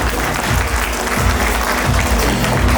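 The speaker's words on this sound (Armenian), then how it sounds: "Հարգելի բարեկամներ, ծափարում ենք մեր գեղեցիկ երկու ընտանիքի պատվին" Wedding guests applaud the two families in a dense, continuous burst of clapping that fills the room, close and loud, without speech.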